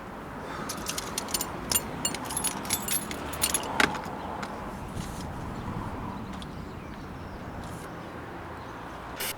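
Keys jangle repeatedly in sharp metallic bursts, loudest in the first four seconds then thinning out, over a low steady rumble of background noise.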